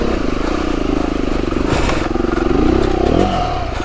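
A motorcycle churns through a muddy trail in the Sussex and Hampshire countryside, its engine droning loud and close as the rear wheel spins, with the pitch rising and wavering under load amid clattering.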